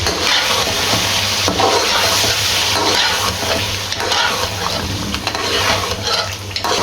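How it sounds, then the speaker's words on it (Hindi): Chicken pulao with yogurt is stirred and fried in a pot, giving a loud, continuous sizzle with scraping stirring strokes throughout. "ये इसके अंदर ऐड करके इसकी सिर्फ 2 मिनट के लिए बुनाई करनी है"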